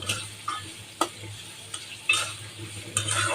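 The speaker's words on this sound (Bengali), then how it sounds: "পেঁয়াজ দিয়ে শুধু ভুনা করব" Liver frying with onions in a pan while a utensil scrapes and stirs in short, irregular strokes; no voices.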